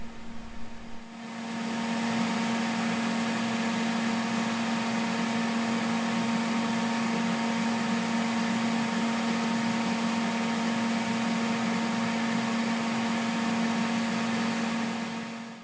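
A water pump driven through an Optidrive E2 frequency drive hums steadily and loudly with a constant electrical whine, starting after a brief quiet second and holding unchanged to the end.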